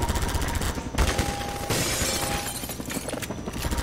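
Rapid gunfire in Half-Life 2, dense overlapping shots with bright glassy, shattering edges and bursts that stop and restart, loud over a busy game soundscape.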